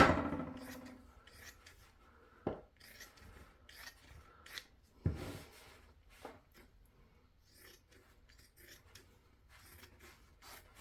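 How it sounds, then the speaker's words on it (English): Scissors cut through headband fabric with quiet rasping snips and rubbing strokes. A few sharper clicks stand out early on, then the snipping settles into faint, irregular cuts close by, with no talking. "so I'm going to cut that out"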